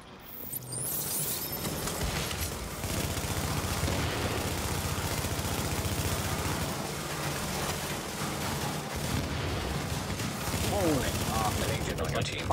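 Dense, continuous video-game gunfire from several players at once, a loud unbroken barrage of overlapping shots with battle noise running the whole time and no pauses.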